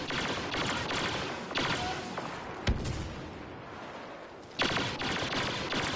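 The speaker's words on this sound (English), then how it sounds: "Who is shooting me?" Gunfire in the video game Turning Point: dense, continuous bursts of weapon fire with a sharp, close crack near the middle and another heavy volley later, all at a steady loud level.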